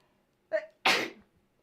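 A single sharp sneeze, a quick intake followed by a loud burst, close to the microphone.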